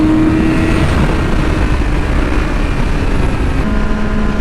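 A Yamaha R6 motorcycle running flat out at top speed in sixth gear, a loud, steady engine drone and wind roar that holds throughout with a slight shift in pitch near the end.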